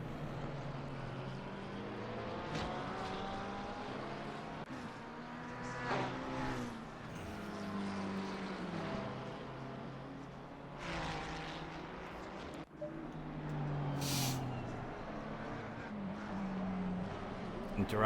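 Race cars including a BMW, a McLaren and a Porsche circuit Oulton Park, their engines droning and rising steadily in a dense, continuous roar while a commentator talks over the top.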